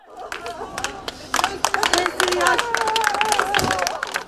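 Women clapping at a funeral, a dense burst of applause from a close crowd that builds and holds steady, with shouting voices rising over it.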